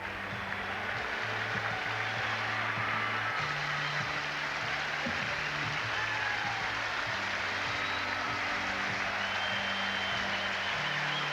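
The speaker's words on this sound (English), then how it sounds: "the applause you hear from the crowd" A crowd at Fenway Park applauds during a Red Sox baseball game, a broad, distant roar of clapping that runs throughout, with steady low tones humming beneath it.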